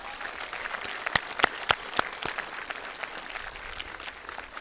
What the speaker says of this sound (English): please give a round of applause for all the hard work that went into making today successful